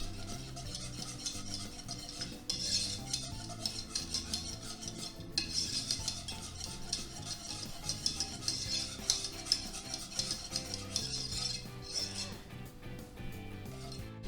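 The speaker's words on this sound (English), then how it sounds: "And just mix it up really well till your cheese is well melted and blended" Cheddar cheese is stirred into a sauce in a pan until it melts. A utensil scrapes and clinks against the pan in steady repeated strokes, close and fairly quiet, with a faint sizzle underneath and no talking.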